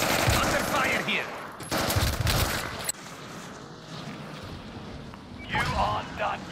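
Gunfire in the Call of Duty Warzone video game on PlayStation 5: loud, sustained bursts of automatic weapon fire and shots that rise and fall across the stretch, mixed with game voice chatter.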